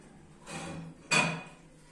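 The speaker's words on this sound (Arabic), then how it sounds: "هي حلت الباب سالت" The door of a Whirlpool washing machine is opened during a repair, giving a soft scrape followed by a sharper latch click and clunk, close and fairly quiet.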